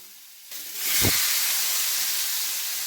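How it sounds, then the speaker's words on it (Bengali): Fried Chandramukhi potatoes hit hot spice paste in a pan with a sudden, loud hiss and a soft thud, and the sizzle then holds steady and strong, close by, with no talk. "এবার দিয়ে দেবো ভেজে রাখা আলু।"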